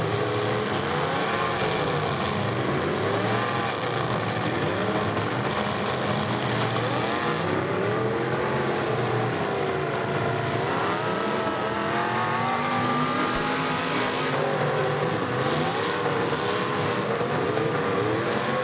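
A pro stock drag race car engine at a 2024 Bash For Cash qualifying event, droning and revving continuously at a distance amid steady crowd and track noise, with no clear talk.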